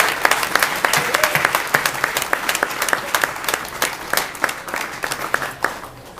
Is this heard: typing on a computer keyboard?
no